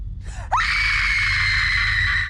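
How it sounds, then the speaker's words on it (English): A woman lets out a loud, sustained scream after a brief gasp in a bedroom scene from a horror film, and the shrill cry holds steadily for nearly two seconds before cutting off. "Pearl climbs in the bed with Maxine for the classic horror scream scene."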